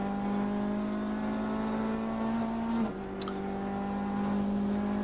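Onboard engine of a race car during the Sebring 24 Hours endurance race, a loud steady drone that dips briefly as it shifts or lifts, then settles back to a constant pitch, with a short click in the middle.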